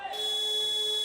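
A sustained electronic buzzer tone sounds at the end of a FIBA U19 women's basketball game between Spain and Argentina, steady and fairly loud across the whole moment.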